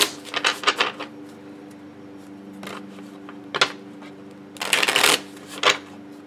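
Playing cards riffle and snap in several quick shuffling bursts, with short pauses between them, close and crisp over a faint steady background hum, with no voices.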